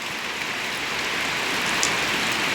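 A light drizzle falls outdoors as a steady, even hiss of fine raindrops, continuous and fairly close, with no other sounds standing out.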